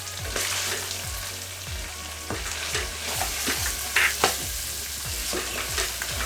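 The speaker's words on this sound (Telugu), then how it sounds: "5-6 నిమిషాల తర్వాత మనకి బాగా ఆయిల్ సపరేట్ అయ్యి బాగా వేగిందండి." Minced mutton keema fries in separating oil, a constant close sizzle punctuated by regular, rhythmic stirring strokes of a spoon against the pan.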